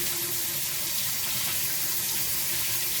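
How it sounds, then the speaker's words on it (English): Tap water runs steadily into a sink while a half bushel of cilantro is rinsed of dirt, a close, continuous broadband splash with no talking. "You want to rinse it really good, because a lot of times there'll be dirt in there."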